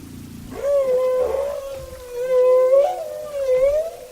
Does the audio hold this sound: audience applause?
no